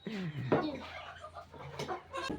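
Short, irregular chicken clucks and squawks nearby, a few bursts spread over a couple of seconds with quiet gaps between.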